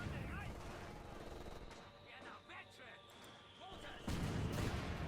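Light machine gun fire in a Company of Heroes 2 battle, rattling in sustained dense bursts with scattered impacts, loud and continuous, ending in a heavier burst of firing.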